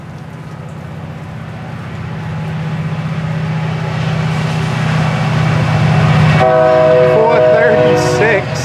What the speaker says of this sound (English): The high chime that you hear belongs to the hard-working local FEC920.